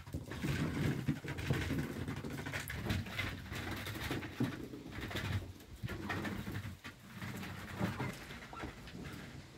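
Pigeons coo low and repeatedly while feeding outdoors, a soft continuous burble of overlapping calls, fairly faint, with no one speaking.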